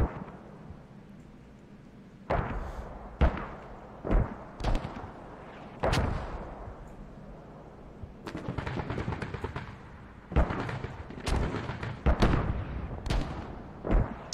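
Gunshots crack through fog during a competitive video game match, coming in sharp, separate bursts and clusters of loud reports with short quiet gaps between them, with no talk over them.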